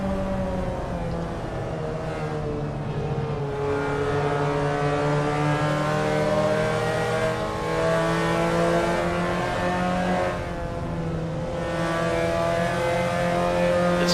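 Race car engine in a racing game at Suzuka East, a sustained high-pitched whine at speed that rises and holds in pitch while slipstreaming behind another car, loud and steady with no talk.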